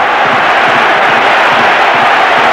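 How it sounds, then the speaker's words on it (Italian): A stadium crowd at the Olimpico applauds during a Lazio vs Parma Serie A match, loud sustained clapping and cheering filling the stands without letup. "Applausi convinti"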